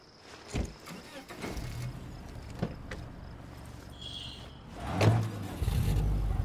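Car engine in the video game State of Decay 2, a low rumble that swells and revs around the middle and end, with scattered clunks and game effects and speech-like sounds mixed in.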